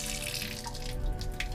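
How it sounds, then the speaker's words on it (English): Water running from a tap in an off-grid Ford Transit campervan conversion while the water pump hums underneath, a steady close splashing stream with a low tonal drone, no talking. "So you can hear it if I turn on the tap."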